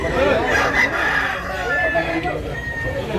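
Roosters crow amid clucking fowl at a rain-soaked gamefowl market in Tabunok, Cebu, the calls fairly close over a busy background with people talking nearby.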